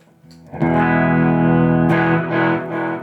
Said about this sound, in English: Let's kick on the Echo.